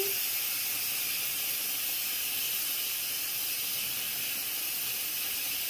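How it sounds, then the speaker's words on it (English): Steady, loud hiss of steam escaping from an Instant Pot pressure cooker valve while cooking risotto, continuous and unbroken for several seconds. "I can hear the steam is slowing down."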